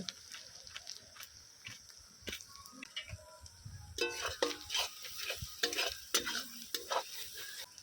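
Spice masala for mutton curry with potatoes, with turmeric and red chilli powder added, is stirred in a pan. Repeated scraping strokes and a soft sizzle grow louder and denser about halfway through. No one speaks.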